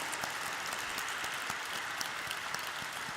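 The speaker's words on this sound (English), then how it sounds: "can we have a huge round of applause for our phenomenal founders?" Audience applause at an IPO listing ceremony, a dense steady wash of many hands clapping throughout, moderately loud with no talking.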